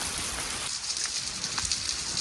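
Heavy rain pours down steadily during a rainy spell in Gujarat, a dense continuous hiss of drops hitting surfaces close by, with no voices over it.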